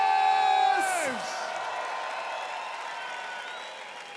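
A crowd at an international breakdance battle cheers and whoops for a Russian crew, with a sustained wash of distant cheering and applause under a loud hall ambience and a brief sliding tone at the start.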